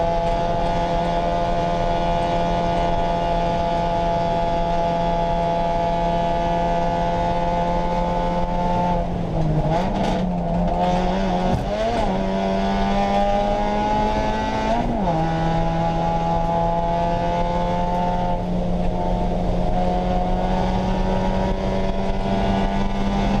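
A race car laps Road Atlanta in the rain, its engine droning loudly and continuously up close from inside the car, with the pitch dipping and rising through gear changes and corners.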